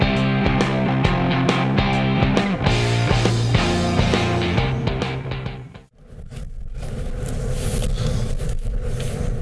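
Busy big-city street traffic: after several seconds of music, a steady, fairly loud wash of passing vehicles and engine noise fills the rest of the clip, with no talk.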